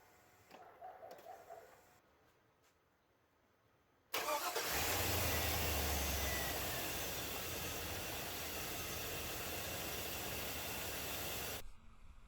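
A Chevy truck engine, just fitted with a new fuel pump, cranks briefly after quiet key clicks, then catches and settles into a loud, steady idle that runs several seconds before cutting off.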